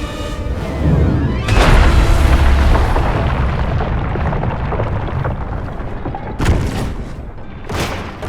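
A spaceship blows apart in the video game Destroy All Humans! 2, a loud sustained boom with rumbling debris that rolls on for several seconds, then two sharper blasts near the end.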